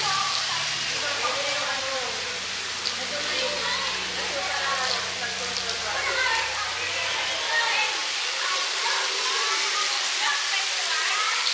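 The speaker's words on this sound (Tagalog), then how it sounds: "May shower dito, ayan o. Pwede mag-shower." Water from a shower at an amusement park swimming pool pours and splashes continuously, with a low rumble beneath that drops away partway through and faint voices in the background.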